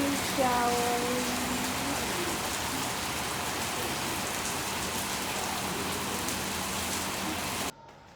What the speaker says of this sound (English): Rain showers.